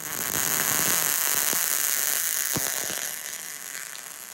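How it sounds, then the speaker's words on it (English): Welding on a cargo trailer frame during a conversion build: a steady, loud, crackling hiss with scattered pops, easing slightly in level toward the end, with no talk over it. "And then I'll start welding this here, just like I did with the last one."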